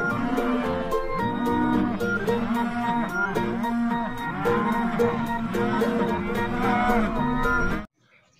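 A toy cow gives a long run of repeated mooing calls, loud and close, with musical tones layered over them, before cutting off abruptly into near silence.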